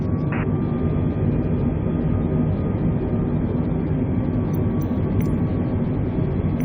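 An Airbus A320neo taxis after landing at Heathrow in Storm Barra winds, its engines giving a steady, loud hum and rumble with a faint tonal whine throughout.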